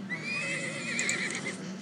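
A wild horse in the video game Zoo Tycoon gives one drawn-out, wavering neigh, close and clear, lasting nearly two seconds.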